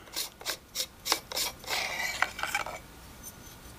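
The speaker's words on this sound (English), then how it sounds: "to get to the batteries, we just unscrew the lower half" The lower half of an Xtuga U250 UHF wireless handheld microphone being unscrewed to reach the batteries: a series of short, close, dry rasping twists, several in quick succession, followed by a longer grinding turn that fades out, with no talking.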